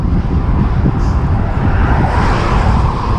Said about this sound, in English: after a while you get sick of hearing cars go by at 110K an hour